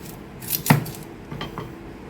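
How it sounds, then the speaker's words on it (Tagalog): A kitchen knife slicing an onion on a cutting board, a few sharp cuts and taps close by, one louder knock near the start and softer slices after it, with no talking. "gagayatin na po natin ang ating onion"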